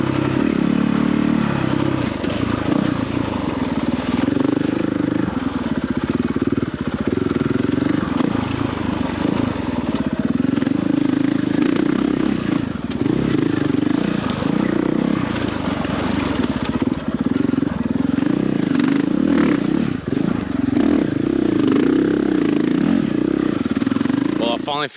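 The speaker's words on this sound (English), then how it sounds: "I'm loving every single moment of being on the bike." A motorcycle rides along off-road dirt tracks on an Australian road trip, its engine a loud, steady drone with rough clattering variation throughout, sometimes with a voice underneath.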